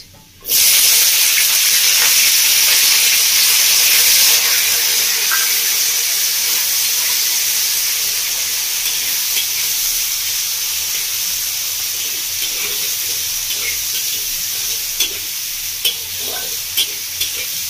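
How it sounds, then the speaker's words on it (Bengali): Chopped onions frying in a pan with tempering spices: a loud hissing sizzle bursts in at once and holds steady, easing a little later, with faint stirring clicks near the end and no talk. "বন্ধুরা পেঁয়াজটা হালকা করে ভেজে নিয়েছি"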